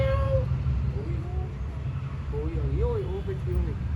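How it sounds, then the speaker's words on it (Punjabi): A cat meows several times at a salon, short rising and falling cries, fairly clear, over a steady low background rumble, with people talking nearby. "ਆਈ ਬਿੱਲੀ"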